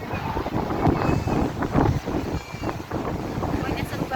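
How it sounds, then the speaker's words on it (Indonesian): Big ocean waves crash and churn against the rocky coast at Crab Cave, Cape D'Aguilar, Shek O, Hong Kong, a loud roaring surf mixed with gusty wind buffeting the microphone, with people talking nearby. "Dan ombaknya itu di sini besar banget. Ya, ini yang dinamakan big wave."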